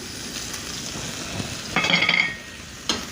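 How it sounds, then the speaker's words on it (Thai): Chilies and garlic frying in oil in a wok, a soft steady sizzle with stirring, a louder scraping burst in the middle and a brief clink near the end. "เจียวน้ำมันพริกกระเทียมเข้ากันแล้ว"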